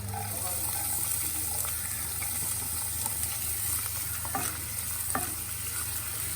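About one head of chopped onion frying in a pan gives a steady, close sizzling hiss throughout, broken by occasional scrapes and clicks of stirring, with no voices.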